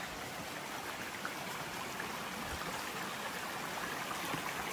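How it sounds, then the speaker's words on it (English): A stream rushes at a water crossing on the Appalachian Trail, a steady close wash of flowing water that holds evenly throughout with no talking. "Our first water crossing of the day."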